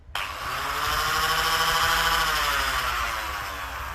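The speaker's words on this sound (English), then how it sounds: "So this is also more a generic fixed setting angle grinder." A fixed-speed angle grinder whines steadily at high speed for several seconds after a quick start, loud and close, with no talking.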